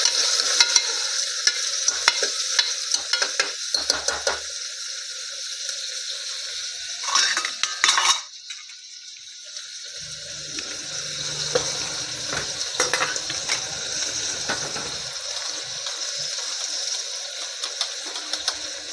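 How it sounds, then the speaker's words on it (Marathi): Masala sautéing in hot oil in a pan, stirred continuously under a loud, dense sizzle that briefly drops away midway before resuming, with scraping and clinks of the utensil. "त्याला आपण परतून घेऊया तेलामध्ये।"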